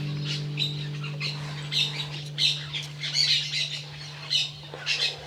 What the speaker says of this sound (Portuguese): Coro de passarinhos.